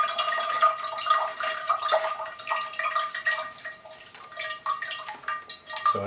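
Water is poured over the crown of a Sarracenia pitcher plant to rinse it, a close, uneven trickle with scattered drips and splashes lasting several seconds, with no voices.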